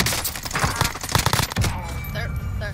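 Rapid bursts of automatic gunfire in a military shooter game, dense cracking shots for the first second and a half, then a quieter stretch of background game ambience.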